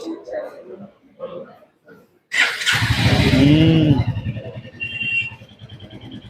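A Royal Enfield Hunter 350 motorcycle is started, its engine catching after a voice and then settling into a loud, close, steady thumping idle that runs through the rest of the clip.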